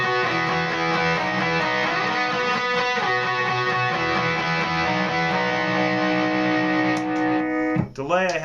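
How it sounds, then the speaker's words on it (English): Electric guitar through overdrive and delay set to quarter notes at 140 beats per minute, playing a sustained, harmonically rich rhythm part with echoing repeats, loud and continuous before a quick slide and scrape at the end. "Okay, so with overdrive and delay,"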